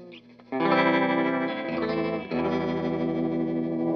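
Electric guitar played through a Vox AC30/4 amp with the tremolo effect switched on, bright sustained chords ringing out loud and close with a pulsing, wavering shimmer and no talk.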